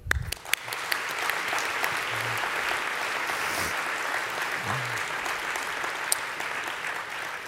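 Audience applause for the 2019 ISMRM gold medal awards at a plenary session in a large hall, a steady dense clapping from a big crowd that holds for several seconds without talk.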